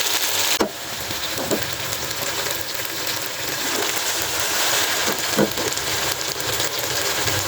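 Beef pieces frying in a pan, giving a steady loud sizzle and hiss close up throughout, with a few faint clicks and no talking.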